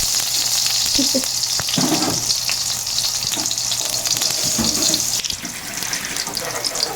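Garlic and onion sauté in a pan for a Filipino tapa dish, a steady loud sizzle running the whole time with a few clinks of stirring.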